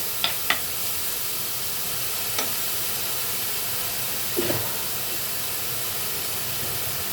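Drumstick leaves (sajna saag) frying in oil in a pan, giving a steady faint sizzle with a few soft clicks and pops scattered through it, no voices.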